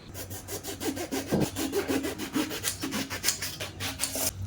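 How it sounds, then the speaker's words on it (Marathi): A knife slices through eggplant (brinjal) on a board in a home kitchen, a steady run of close, scraping cuts with a brief heavier thud midway, no talking. "आता आपण कट करायला घेऊया वांग."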